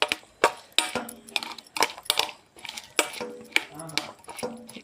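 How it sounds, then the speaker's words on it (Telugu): Mango pieces are stirred into oil for a small-cut mango pickle, giving repeated clinking, scraping strokes of a utensil against a vessel in an irregular rhythm, close and fairly loud. "ముందుగా ఆయిల్లోనే మనము ముక్కలు కలిపెట్టుకుందాము."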